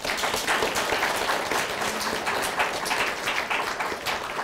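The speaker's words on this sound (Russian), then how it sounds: "Вы слышите наши аплодисменты?" Audience applause at a panel discussion on Russian media fills the room as a dense, loud, steady wash of many hands clapping, with no voices standing out.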